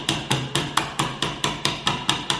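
Nail hammered into a wooden beehive frame while wiring it, about ten evenly spaced sharp metallic blows ringing out close and loud with no talk.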